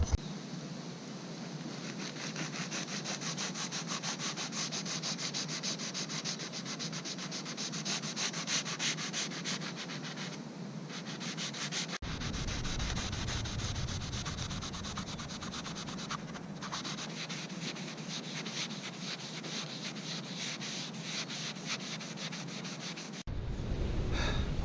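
Continuous hand sanding on a MasterCraft boat's body, a close, steady rhythmic rasp of rapid strokes with brief pauses between passes and no talking.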